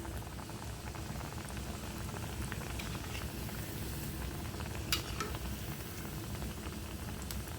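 Kebabs fry in a pan of oil in a home kitchen, a soft, continuous bubbling sizzle held at a low, even level with faint stirring ticks and no talking.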